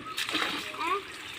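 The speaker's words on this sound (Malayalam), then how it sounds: "നീ ചിരട്ട കൊണ്ട് വെള്ളം ഒഴിക്കണം" A brief splash of water poured from a coconut shell onto a ginger planting, fairly faint, with a voice talking nearby.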